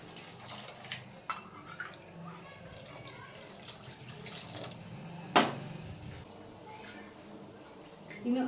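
Two cups of water poured into a pan of mutton biryani on a gas stove, a steady wash of running liquid with one sharper splash midway, fairly close and moderately quiet.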